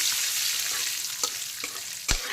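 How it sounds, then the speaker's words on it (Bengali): Whole dry red chillies, black and white cumin, whole garam masala and bay leaf sizzle in hot frying oil with potatoes, a steady loud crackle with a few sharp pops and one louder spatter near the end; no talking. "আলু আর সমস্ত মশলা ভাজার তেলে দিয়ে দেবো প্রথমে শুকনো গোটা গোটা সমেত লঙ্কা কালো জিরে সাদা জিরে গোটা গরম মশলা তেজপাতা"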